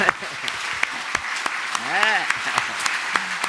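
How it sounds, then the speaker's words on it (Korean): An audience at a Buddhist monk's televised dharma talk claps in a brief scattered round of applause, heard under a speaking voice with a short tonal sweep midway. "박수로 하세요."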